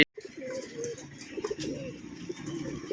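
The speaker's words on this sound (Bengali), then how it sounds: "এটা হচ্ছে নর পায়রা দুটোরই সেম" Male pigeon coos softly and repeatedly in a loft, low rolling calls close by with faint background noise.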